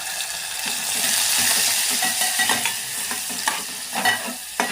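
Crab pieces fry in a pan for crab soup, a close, bright sizzle under repeated scraping and clacking of a spoon stirring them, with small irregular bursts of crackle.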